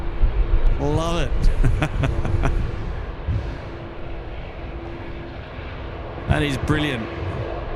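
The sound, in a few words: Airbus A350 jet taking off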